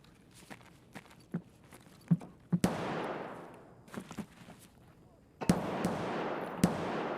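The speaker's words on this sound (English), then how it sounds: "Someone's shooting over there." Gunfire in the video game Escape from Tarkov: several sharp distant shots, two of them followed by long rolling echoes, spread irregularly through the stretch, with faint footsteps and game ambience in between.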